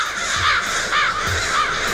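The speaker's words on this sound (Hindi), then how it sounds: "ब्लैक क्लाउड्स नहीं है यार, ऊपर देख। ये तो ब्लैक क्रोस है।" A flock of black crows caws overhead, harsh repeated calls overlapping in loose bursts about every half second above a steady wash of background noise, fairly loud and with no talking.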